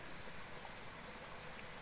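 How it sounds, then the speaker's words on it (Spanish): Steady rain falls outdoors on a wet morning, a continuous faint hiss of drops with no clear breaks and no talk. "no para de llover en toda la mañana"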